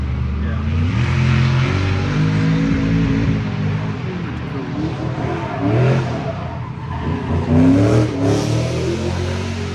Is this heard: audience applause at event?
no